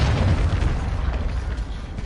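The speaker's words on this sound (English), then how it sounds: "Hostiles launched a cruise missile." A cruise missile explodes in a video game as a heavy low boom that rumbles and slowly decays over two seconds, close and loud.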